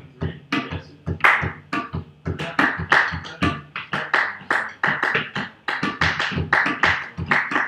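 Several people clap hands in a steady three-beat rhythm at a music rhythm workshop. The sharp claps come close and evenly spaced, with no talking.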